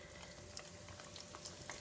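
Floured chicken cutlets seasoned with sazon frying in a pan, a soft, steady sizzle with scattered crackles and pops heard close but at low volume.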